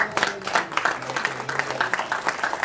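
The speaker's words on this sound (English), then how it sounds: "Big round of applause." A crowd at a Rotary club meeting claps steadily in a dense, ongoing patter of applause, fairly close, with faint voices mixed in.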